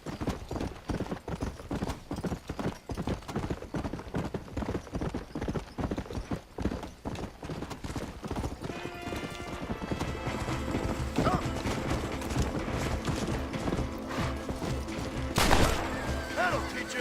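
Horse hooves gallop in the Western video game Red Dead Redemption, a fast, rhythmic clip-clop that is close and continuous, with a horse whinny, bursts of gunfire and game music and voices rising in the second half.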